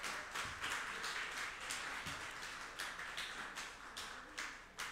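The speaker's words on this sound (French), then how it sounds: "On peut les applaudir, les futurs..." A church congregation claps for upcoming baptism candidates, a steady dense patter of many hands filling the room with rhythmic swells, no talk over it.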